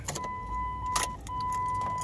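Car keys jangle as they are pulled from the ignition of a car during engine diagnosis, a short close metallic rattle with a steady electronic tone and low vehicle hum behind it.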